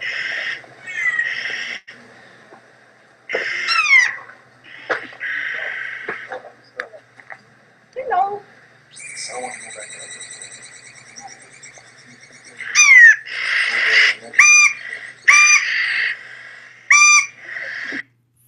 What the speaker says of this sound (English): This is going to be a Clark's Nutcracker that was recorded up near Mammoth Lakes about 3 years ago.